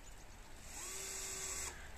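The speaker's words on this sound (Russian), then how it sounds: "Я просверлю вот сейчас кончик." A small bit in a power drill bores a hole at the tip of a piece during building work: a steady, close whine starts at about 0.8 seconds and holds for nearly a second over a background hiss.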